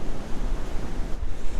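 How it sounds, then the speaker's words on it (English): Ocean surf rushes up a sandy beach at Woolacombe, a steady, loud wash of broadband noise with wind buffeting the microphone, continuous with no voices. "That's one wave that decided to come in just that bit further and almost got our feet wet."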